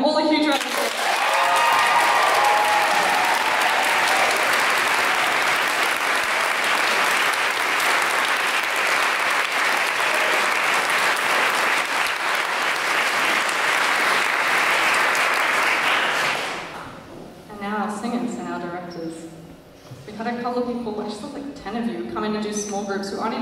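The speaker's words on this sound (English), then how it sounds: "Can I give them all a huge round of applause?" An audience at a barbershop choir performance breaks into loud, sustained applause that fills the room for about sixteen seconds before fading, after which a voice speaks over the last clapping.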